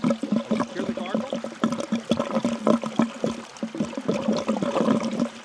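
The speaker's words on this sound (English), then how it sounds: "That's this pipe sucking air." A drain pipe in a watercress bed gurgling and sucking air as the bed empties, giving an irregular run of wet gulps and splashy bursts with a voice faintly underneath.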